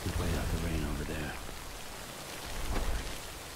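Rain in the video game Death Stranding falls as a steady soft hiss, starting under a person talking and then continuing alone.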